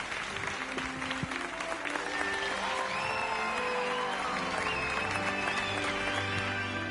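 Crowd cheering and applauding in the video game Hogwarts Legacy, a steady, dense roar of many voices with clapping that holds at an even level throughout, with whistle-like tones and game sounds layered on top.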